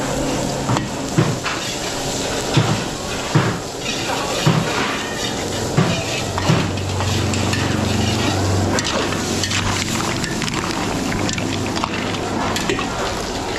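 Garlic and onion fry in white cooking oil in a catering kitchen in Macabebe, Pampanga, sizzling steadily with occasional knocks and utensil taps, under voices talking throughout.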